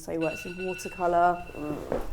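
A steady electronic ringing tone like an alarm or phone bell sounds under close conversational talk, running through the whole stretch while people speak over it.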